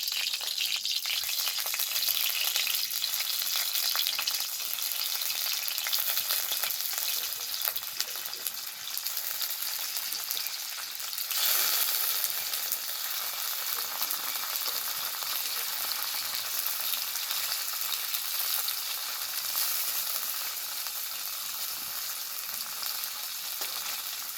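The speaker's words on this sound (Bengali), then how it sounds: "সব শেষে এবার পনিরগুলো ভাজবো" Paneer cubes frying in hot oil, heard as a dense, even crackling sizzle that carries on steadily for a long stretch, close and bright, with no speech.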